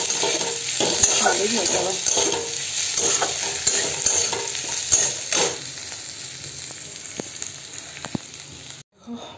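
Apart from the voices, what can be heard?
stir-frying Maggi noodles with chicken, Maggi masala and sauce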